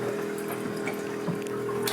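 A watermaker pump runs aboard a sailboat cruising the San Juan Islands, giving a steady mechanical hum with a sloshing, trickling water layer over it, close and continuous without voices.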